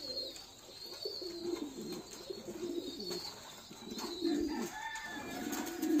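Pigeons on a farm coo while bathing, with soft repeated coos over faint wing flutters and splashing, close and fairly quiet.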